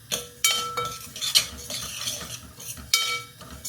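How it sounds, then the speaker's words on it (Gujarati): A spoon scrapes and clinks against a pan as cracked wheat is roasted in ghee for lapsi, with repeated stirring strokes, sharp metallic knocks and a soft sizzle underneath, close and fairly loud. "ચાલો તો લાપસીને જરાક ખાસ ગેસ કરીને શેકી દઈએ"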